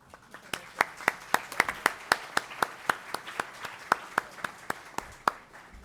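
Clapping at a judicial archives panel's award presentation in honor of a teacher, a small group of hands beating in a fairly regular, distinct rhythm, each clap sharp and clear, close and moderately loud throughout.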